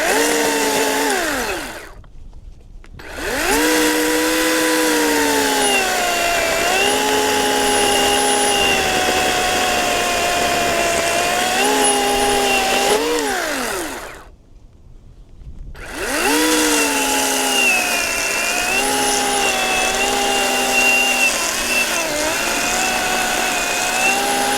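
A Ryobi electric chainsaw cuts through a medium-sized log with a loud, high motor whine that bends in pitch under load. It drops out briefly twice between cuts and then revs back up, with no voices.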